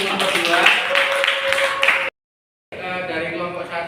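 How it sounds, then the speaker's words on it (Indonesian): A classroom audience claps for a student group, a brisk, dense patter of many hands, then a short pause before more clapping resumes. "tepuk tangan untuk kelompok"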